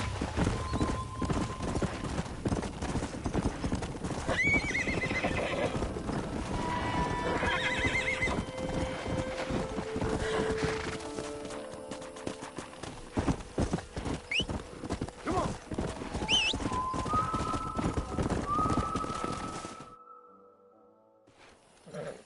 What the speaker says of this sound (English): We got some fine horses. You know, why don't you keep that stallion as your own